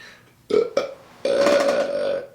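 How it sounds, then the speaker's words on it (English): A couple of short gulping sounds, then one long drawn-out belch, loud and close. "it's obviously more of a belch coming out"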